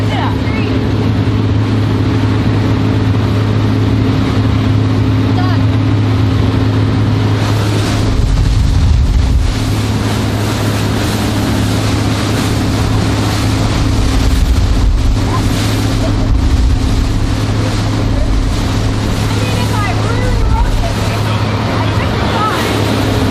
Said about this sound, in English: This is what I do to my kids in the motorboat.